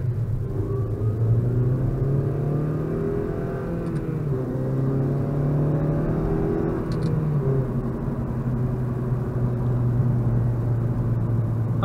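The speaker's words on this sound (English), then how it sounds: "This car gave me the first ever Vtec experience I had." A Honda Civic Si with a VTEC engine is heard from inside the cabin, its engine note climbing steadily under acceleration with a continuous loud drone and rising harmonics, no talk over it.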